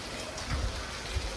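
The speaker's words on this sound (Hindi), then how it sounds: "बारिश तो कंटिन्यू चालू है।" Steady rain falls continuously outdoors, a dense even hiss with a few low thuds, moderately loud and without any voices.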